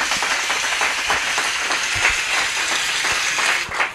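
A studio audience applauds steadily during a French-language television broadcast, a dense, continuous wash of clapping filling the room for several seconds without a break.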